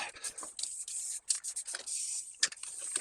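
Short bursts of hissing spray come from a direct-to-rust rattle can as paint goes onto trike parts, a series of quiet on-off puffs close by with no talk.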